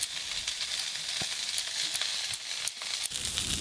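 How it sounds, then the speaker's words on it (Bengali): Broccoli fries lightly in a pan, giving a steady, bright sizzle throughout with occasional soft clicks of stirring, and no voices. "এই যে এদিকে ব্রকলিগুলো হালকা করে ভাজা হয়ে গেছে"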